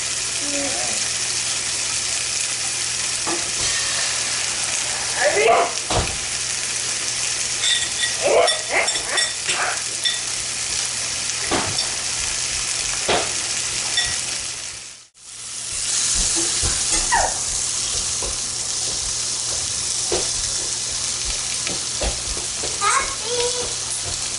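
Ham and farm eggs frying in a pan for breakfast, a steady close sizzle with scattered crackles and pops, briefly cutting out midway before resuming.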